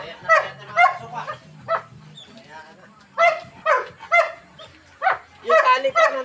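Dogs barking and yipping in short bursts at fairly close range, with people talking in between during a 1996 Honda Civic repair.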